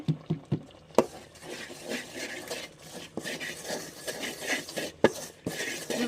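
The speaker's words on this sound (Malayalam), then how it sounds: "ഇതെല്ലാം കൂടെ ഇട്ടൊന്ന് വറുത്തെടുക്കുകയാണ്" Dry spice powders, including coriander, fenugreek and turmeric, being stirred and scraped in a pan, with repeated rasping strokes and occasional sharp knocks, close up, no talking.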